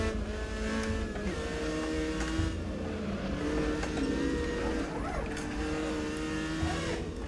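Race cars in Assetto Corsa, with several engine notes droning and shifting pitch as two cars spin out on a corner, tires faintly squealing under a steady, loud engine mix.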